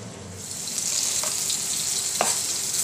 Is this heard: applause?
no